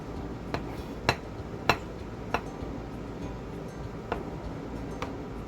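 Cutlery taps and clinks against a plate as a lime cheesecake is sliced, sharp isolated ticks spaced about half a second apart that thin out toward the end, over a quiet room background.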